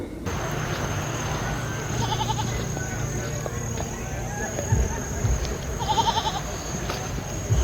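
Goats, some of them pregnant, bleat in short repeated calls during a nighttime walk home outdoors, sounding at moderate distance over footsteps, background noise and occasional talk.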